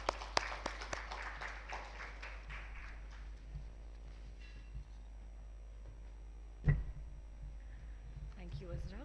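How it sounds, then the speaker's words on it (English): Audience applause in a conference hall at a health AI conference and awards event, loudest at the start and fading over the first few seconds, followed by a voice speaking over the room's quiet background. "Can we make a round of applause?"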